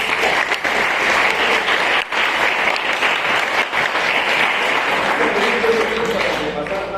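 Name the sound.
applause for the students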